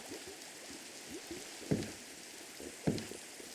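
Rain in a Minecraft-style block game falls as a soft, continuous patter. Two sharper knocks stand out over it, and no one speaks.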